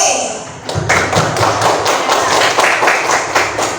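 Children in a school classroom clap their hands together in a brisk, rhythmic round of applause, close and loud, with regular sharp claps continuing steadily to the end.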